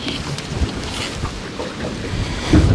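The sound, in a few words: strong wind blowing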